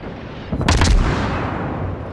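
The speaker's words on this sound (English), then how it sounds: "I try and salvo fire here, open up on him with a broadside" The tier 6 Farragut fires a broadside salvo in the naval combat game World of Warships: one heavy, booming cluster of gunshots rolls out under a constant low engine and sea rumble.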